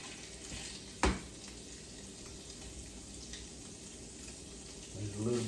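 Pulled pork seasoned with salt, pepper and garlic frying in butter and bacon grease in a hot skillet, a quiet steady sizzle throughout, broken by a single sharp clank and a louder crackle near the end.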